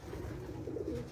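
Faint, low cooing from champion breeder pigeons, a soft throaty warble rising and falling briefly against quiet ambient noise.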